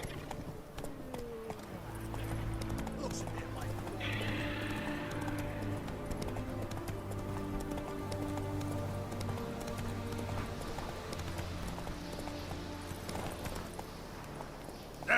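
Roach, Geralt's horse in The Witcher 3, gallops with a continuous rhythmic clip-clop of hooves over orchestral game music, steady and moderately close throughout.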